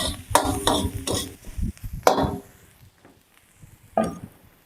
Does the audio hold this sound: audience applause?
no